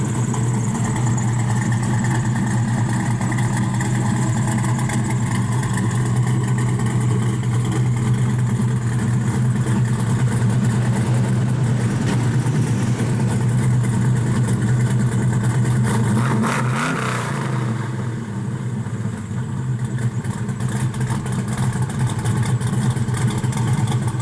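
A 1969 Chevrolet El Camino SS 396 with a four-speed, 3-inch exhaust and ceramic-coated headers rumbles loudly and steadily at close range, holding a deep idle with a brief rev blip partway through.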